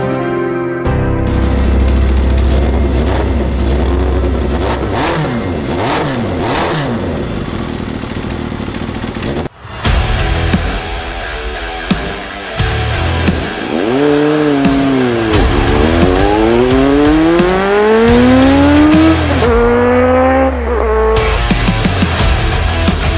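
A Honda VFR 800 motorcycle engine revs loud and close, rising and falling repeatedly in pitch, with a brief cut partway through before harder climbing revs.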